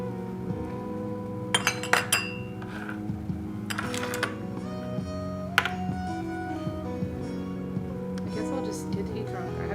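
Tea ware being cleared away after a tasting, scattered bright clinks of porcelain and glass close by, a few sharp knocks among quieter rattling, with a voice talking underneath.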